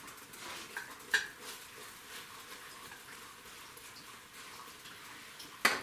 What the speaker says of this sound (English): I'm actually cooking some apples right now. Let me just stir them real quick.